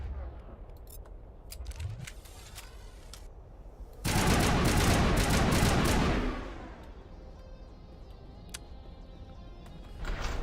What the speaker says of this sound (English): Maybe we should stop using shotguns.